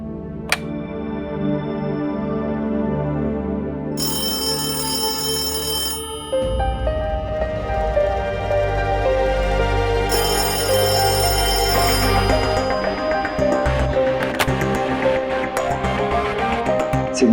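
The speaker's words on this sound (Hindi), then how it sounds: "नैना को फोन कर लेता हूँ, शायद इससे बात हो जाए।" A phone ringtone plays as a repeating electronic melody for a long stretch, with musical tones and changing accompaniment layered around it.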